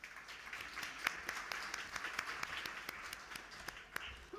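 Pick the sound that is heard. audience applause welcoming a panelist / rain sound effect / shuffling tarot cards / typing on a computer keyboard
audience applause welcoming a panelist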